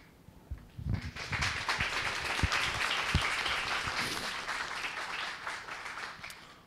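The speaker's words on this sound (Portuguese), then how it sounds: "Muito obrigado pelos aplausos." Audience applause after a talk at the Institute of Mathematics and Statistics, UFRGS, a dense wash of many hands clapping that swells within the first second and holds steady to the end, with a few sharper near claps.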